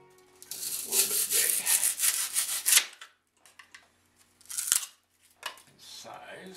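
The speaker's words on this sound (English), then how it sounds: "Alright, I'm going to trim down this foam a little bit." Foam being trimmed in a workshop, giving a loud, continuous scraping and cutting rasp for about three seconds, then a pause and a few shorter cutting strokes, close to the microphone.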